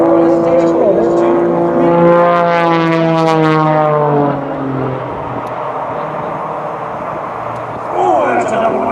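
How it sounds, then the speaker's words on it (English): Aerobatic propeller airplane flying a hesitation roll, its engine droning loud and close with a steady pitch that slides downward as it passes, then fading to a softer rumble before swelling again near the end. "He's going to roll the airplane around."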